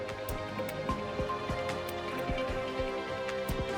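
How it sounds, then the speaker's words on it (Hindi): Heavy monsoon rain pours down in Himachal Pradesh, a dense, constant hiss with scattered drips and splashes, steady and loud throughout with no voices. "मूसलाधार बारिश का दौर जारी है।"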